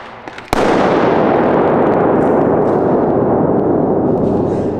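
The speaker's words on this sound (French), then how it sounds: "Pourquoi il a explosé?" A sudden sharp explosion bursts in an anechoic room after a brief quiet moment, then a dense loud roar of noise continues without fading.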